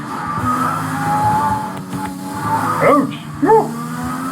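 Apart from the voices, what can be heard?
race car skidding in a racing video game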